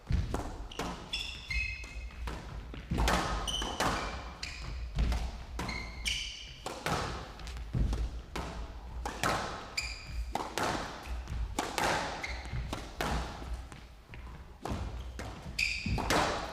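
A long professional squash rally at an indoor court: sharp, regular thwacks of the ball against racquets and the front wall echo through the arena, with sneaker squeaks between shots.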